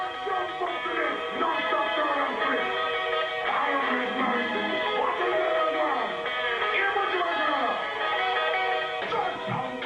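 A 1994-era jungle track plays continuously, dense and bright with a ragga-style vocal weaving through busy layered music, steady in level and somewhat distant, with no one talking over it.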